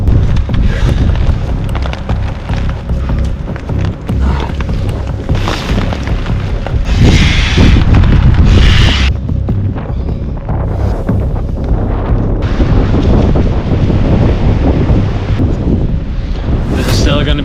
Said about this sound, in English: This wind is getting too much.